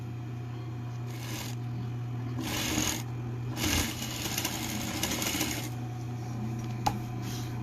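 A sewing machine stitches a seam on a fish-shaped backpack in bursts: several runs of rapid mechanical chatter with short pauses between them, close and steady over a low hum.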